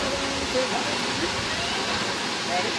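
A waterfall on the Big Island of Hawaii plunges a long way down, heard as a steady broadband roar with no breaks, distant but full, and a voice talks faintly over it.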